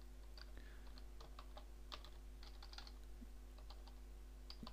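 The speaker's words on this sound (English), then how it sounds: "So I will type my fan page URL." Typing a URL on a computer keyboard: faint, irregular key clicks in short runs over a low steady hum, close but quiet, with no talking.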